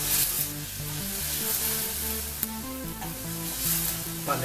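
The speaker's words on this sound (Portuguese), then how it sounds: "Então vamos refogar bem" Onion sizzles gently in a hot pan, a soft steady frying hiss with background music playing over it.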